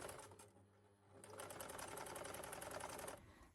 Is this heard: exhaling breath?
no